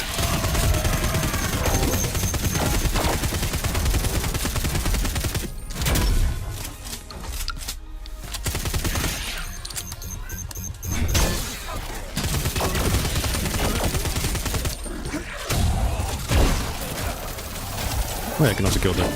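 Bursts of shotgun fire in the video game Wrack: Reclamation boom repeatedly amid dense, loud game action, with sharp blasts broken by brief lulls and a player talking over parts of it.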